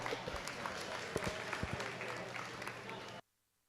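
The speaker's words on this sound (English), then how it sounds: "Give those kids a big round of applause as they head on back to the barn." Audience applause at a county fair swine show, a steady wash of clapping with a few sharp nearby claps and crowd murmur, ending abruptly into silence.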